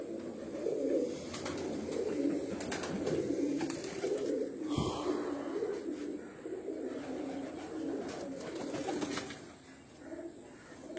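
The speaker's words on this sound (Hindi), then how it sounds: "ये तीनों कबूतर जो हैं, बल्कि 4 कबूतर हैं, एक मादा है।" Several pigeons, a female among males, coo in low, repeated throaty murmurs on a rooftop loft, fairly close and soft, with a brief flutter and faint background noise.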